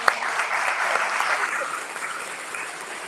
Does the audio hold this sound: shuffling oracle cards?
no